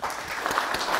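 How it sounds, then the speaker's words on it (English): An audience at an investor evening claps after a presentation, a brief, moderately quiet patter of many hands that stays fairly even throughout. "a round of applause"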